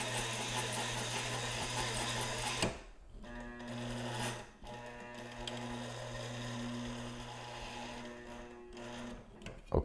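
A sewing machine, traded for on Craigslist, runs close by with a steady mechanical whir, stopping briefly twice and starting again, humming continuously in between.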